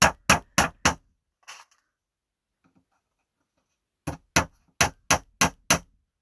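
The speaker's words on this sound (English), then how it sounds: "The more practice you have hammering, the faster that will go" Hammer blows on pieces of a DIY art caddy, a quick run of four sharp strikes, a softer tap, then a long pause before another steady run of seven close, loud hits, with no talking.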